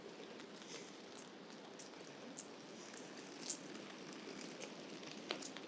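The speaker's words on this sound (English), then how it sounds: "while it is raining, it's not quite cold enough for snow" Cold winter rain falls during a walk through Helsinki's streets, a faint, steady hiss with occasional light drips and no voices.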